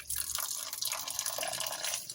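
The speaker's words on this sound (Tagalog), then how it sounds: "I open the gripo." Water dripping and trickling from a household tap just opened, a short, close, wet patter of irregular drops with no voices.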